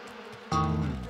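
Cartoon bees swarm around a honey badger, a faint buzz that jumps abruptly into a loud, dense droning hum and holds, with no talking.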